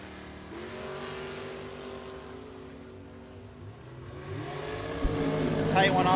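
At a bracket drag racing event, a 3rd Gen Camaro and a 2009 Mustang leave the starting line side by side. Engines rumble and then rise into loud, rising revs as both cars accelerate away, under a public-address announcer's voice.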